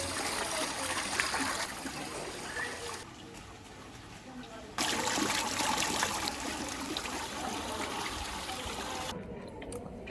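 Water runs steadily in a hissing, trickling stream, close and moderately loud, with its level shifting a few times as it flows.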